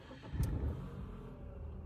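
A 2025 Dacia Sandero starts with a short low burst, then settles into a quiet, steady petrol idle, heard close by without talk.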